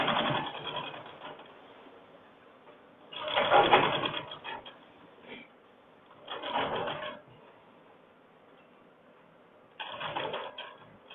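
A sewing machine stitches a men's shirt collar in three or four separate bursts with quiet pauses between them, fairly close and moderately loud, and no talk over the machine.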